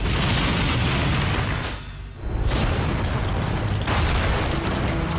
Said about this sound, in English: These terrifying explosions are known as backdrafts.